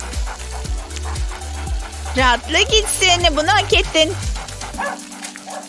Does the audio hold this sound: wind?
no